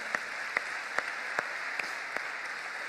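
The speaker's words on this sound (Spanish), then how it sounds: "Ahí de un aplauso grandote al Señor." A church congregation claps for the Lord, heard as a handful of faint, evenly spaced claps over a steady background hum in a large room, with no voices.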